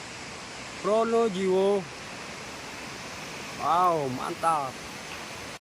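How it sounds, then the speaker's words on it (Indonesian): Tumpak Sewu waterfall in Pronojiwo, East Java, gives a steady, even roar of falling water, with a man's short spoken exclamations over it. "Kita sudah sampai di air terjun Tumpak Sewu"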